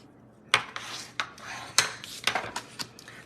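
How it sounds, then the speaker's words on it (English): Cardstock being folded in half and the crease burnished down, a series of close crisp rubs and sharp paper swipes in an uneven rhythm over a few seconds. "I'm going to go ahead and fold this in half and burnish it down."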